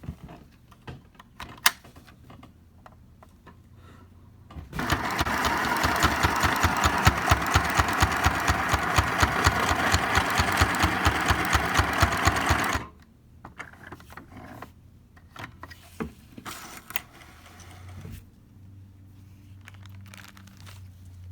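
A sewing machine runs a straight stitch on a fabric face mask. It makes a loud, fast, even mechanical chatter for about eight seconds, with quieter handling clicks and rustles before and after.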